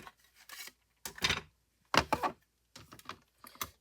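Die-cutting machine cranking a metal die through scrapbook paper, a few short grinding, rasping bursts separated by quiet gaps, close and fairly soft.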